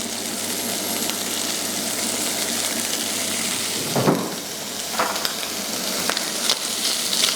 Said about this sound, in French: on fait bien caraméliser les lardons